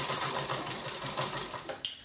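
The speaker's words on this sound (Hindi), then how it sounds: "यहाँ पर हमें इस तरह से सेट करना है, सिलाई लगाना है।" A sewing machine runs in a steady, fast rhythmic stitching burst while sewing a katori blouse, close and fairly loud, stopping abruptly near the end with a short click.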